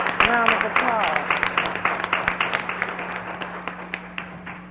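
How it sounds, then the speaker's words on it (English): An essay contest audience applauds the first-place winner with steady, evenly spaced clapping that thins toward the end, while a voice speaks briefly at the start. "Give him a round of applause."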